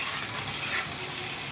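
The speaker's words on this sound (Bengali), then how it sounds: "তো এবার আলুটা আর কচুটা আমি একটু হালকা করে ভেজে নেব।" Potato and taro pieces fry in oil with salt and turmeric, giving off a close, steady sizzle and hiss without a break through the short stretch.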